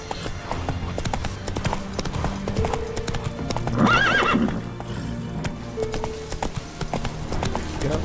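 Horse hooves gallop in a steady clip-clop rhythm while riding in The Witcher 3, with a brief whinny partway through and game music running underneath.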